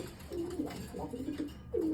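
Pet pigeons kept indoors coo in soft, throaty rolling phrases, close by and repeated several times over a faint background hum.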